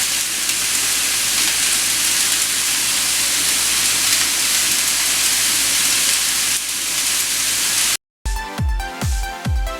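Food sizzles steadily in a pan heated very hot, a dense hiss lasting about eight seconds before a short cut to unrelated music.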